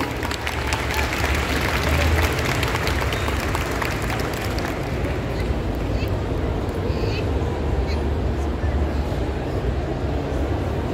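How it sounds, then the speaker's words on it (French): Steady applause from an audience at a cosplay competition during a Paris manga and sci-fi show, a continuous crowd clapping that softens a little in the second half, with a low rumbling hum underneath. "On peut l'applaudir encore une fois."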